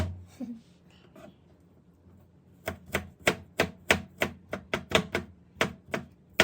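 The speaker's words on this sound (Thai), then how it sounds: "สับกระเทียมเนาะ ไม่มีเครื่องปั่นนะก็ต้องสับเอง" Garlic minced by hand with a knife on a cutting board, a run of about a dozen sharp, evenly paced chops close up, with some quieter handling sounds before the chopping begins.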